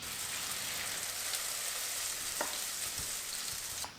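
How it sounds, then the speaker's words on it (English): Potato pancakes with onion and carrot fry in oil in a warmed pan, giving a steady, dense sizzle with a few soft pops, fairly quiet and continuous throughout, with no talk. "when you're frying potato pancakes"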